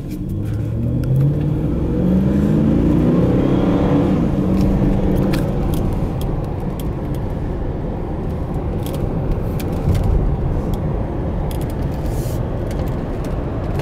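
Oldsmobile Aurora sedan with a Northstar V8 accelerating up to speed on the road, a steady loud engine rumble with rising revs through the first few seconds, then settling into a sustained cruising drone.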